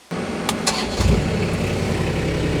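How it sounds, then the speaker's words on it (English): A 2025 Polaris Ranger XP 1000 utility vehicle engine cranks and catches, then settles into a loud, steady rumbling idle close by. "Engine on"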